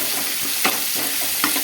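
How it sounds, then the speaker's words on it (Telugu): Chana dal and mustard seeds fry in hot oil as a tempering for buttermilk rasam, a steady close sizzle with two sharper bursts of stirring, no voices. "తాలింపు సరుకులు శనగపప్పు కానీ ఆవాలు కానీ జల్దీ"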